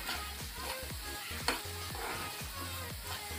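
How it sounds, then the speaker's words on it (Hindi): A green chili mixture for pani puri and masala puri is stirred and sautéed in a pan, with a steady sizzle under repeated scraping stirs at close range. "इसको थोड़ा सा आप लोग भूनने के लिए रख दीजिए"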